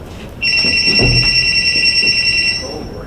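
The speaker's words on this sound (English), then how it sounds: "My phone." A phone rings with a steady electronic trill lasting about two seconds, fairly loud and close, with a faint voice briefly underneath.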